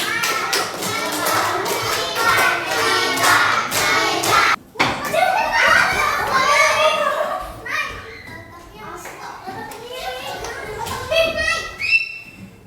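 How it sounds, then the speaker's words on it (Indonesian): Children in a classroom clap their hands in bursts amid lively chatter and a teacher's voice, with uneven rhythmic claps and thumps rising and falling over about twelve seconds. "Kasih semangat dengan kasih tepuk tangan."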